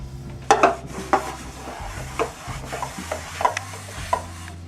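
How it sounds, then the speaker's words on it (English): Close scrubbing of a greasy pan in a sink, with repeated clattering knocks and scraping strokes of the pan against dishes and metal, several sharp impacts spread over a few seconds alongside a low rumbling hum. "I'm getting all the sides of this pan,"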